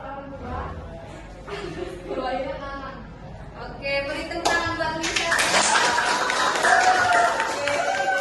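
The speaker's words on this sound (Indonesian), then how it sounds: "beri tepuk tangan buat Mister" Pupils in a classroom lesson clap for their teacher, with scattered claps and voices at first, then a fuller, louder round of applause that builds toward the end while children keep talking.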